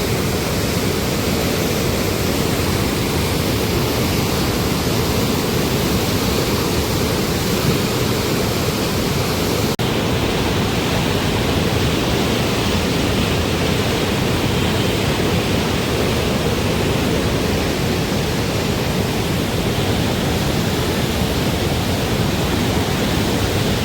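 Floodwater rushes through the open gates of the Kosi barrage in Bihar, a loud, unbroken roar that holds steady throughout without any voices.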